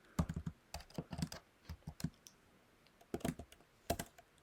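Code being typed on a computer keyboard in a programming lesson: irregular bursts of crisp, close key clicks with short pauses between groups, quiet and with no talking.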